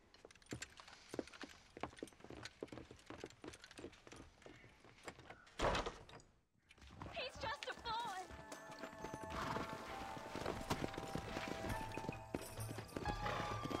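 A horse's hooves clip-clop at a steady walk in the Red Dead Redemption video game, followed by a loud whinny and snorting, then more hoofbeats, with people talking in between.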